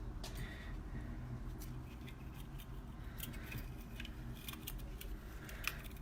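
Scissors snip through fine jewelry chain for pearl and semiprecious stone earrings, giving a few faint, sharp clicks close by over a quiet room hum.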